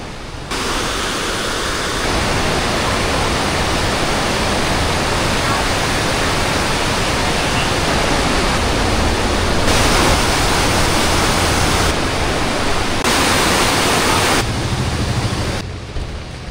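Steady, broadband rush of heavy flowing water at Wawa Dam roars continuously, loud and close, with no pauses.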